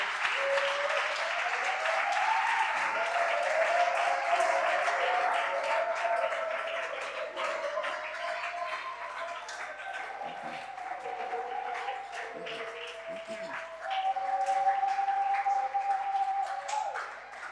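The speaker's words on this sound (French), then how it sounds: "nous allons le démontrer par des acclamations et des cris de joie." A church congregation breaks into sustained applause mixed with joyful cries and high ululating voices. The sound is loud and steady, swelling again near the end.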